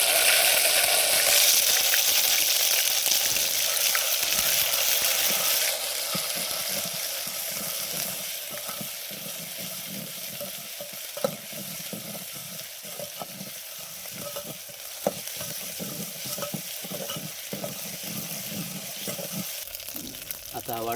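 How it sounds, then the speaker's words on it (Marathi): Ginger, garlic, chili and coriander paste hitting hot oil while cooking a potato dish, a loud hiss that settles into a steady crackling sizzle, with occasional scrapes of stirring and faint background talk. "तेल गरम झालेले, आपण आलं लसूण आणि मिरची आणि कोथिंबीर याची पेस्ट टाकूया."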